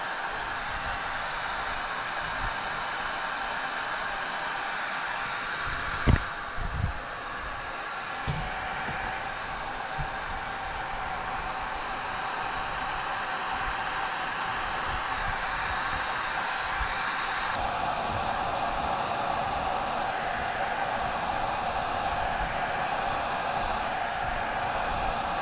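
Heat gun on low heat and high air blowing over wet resin on a wine glass, a steady broadband airy hiss running throughout, with a couple of brief knocks early on and no talking.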